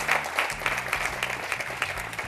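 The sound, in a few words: audience applause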